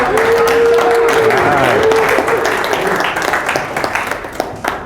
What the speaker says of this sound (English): So please give a round of applause for